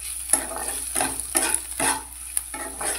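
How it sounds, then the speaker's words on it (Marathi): Green chillies hitting hot oil, a continuous sizzle broken by rhythmic scraping stirs roughly every half second, close and fairly loud with no voices. "नंतर त्यात टाकूया मिरची, हिरवी मिरची."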